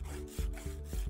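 A nail file rubs a client's fingernail to shape it, making about four close, rhythmic back-and-forth rasping strokes with no voices.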